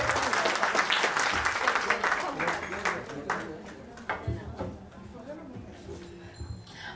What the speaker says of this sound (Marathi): मग एकदा परत जोरदार टाळ्या होऊन जाऊ दे विठ्ठलासाठी.